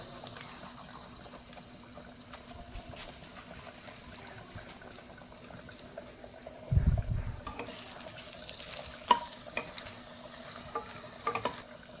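Chillies fry in hot oil in a pan, a faint steady sizzle with a brief louder burst of hissing as they go in, then occasional stirring scrapes.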